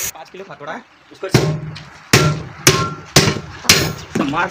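A 5 kg hammer strikes a truck tyre in five loud, close, evenly spaced heavy thuds with sharp attacks, with a voice heard briefly in between while a truck puncture is being repaired.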